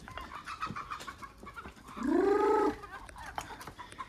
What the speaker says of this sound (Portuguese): mas vem galinha de tudo lado